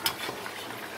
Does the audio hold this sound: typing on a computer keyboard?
no